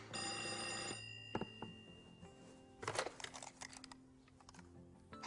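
An old-style telephone bell rings in a single rapid ringing burst at the start, followed by clattering and tapping noises like keys being struck, all fairly quiet.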